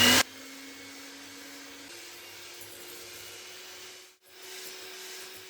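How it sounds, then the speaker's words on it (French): An electric mixer whips egg whites into stiff peaks for a strawberry tiramisu, running as a steady whirring motor tone that steps slightly higher in pitch and briefly dips near the end. "On va venir faire monter nos blancs en neige."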